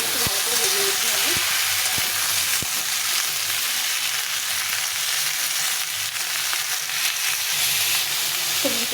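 Pieces of pumpkin, ridge gourd, eggplant and pointed gourd fry in hot oil, giving a steady, close sizzling hiss with occasional clinks and scrapes of stirring and a faint voice in the background.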